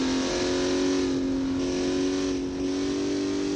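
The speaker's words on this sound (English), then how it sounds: "We'll bring out a C5 Corvette track car." A C5 Corvette track car in the BeamNG driving game, its engine revving hard with a loud, steady high-pitched drone and a brief dip near the end, heard alone.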